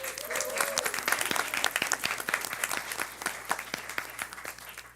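An audience at a county board of education meeting applauds a staff member, a dense, steady patter of many hands clapping at moderate distance, with a brief voice near the start.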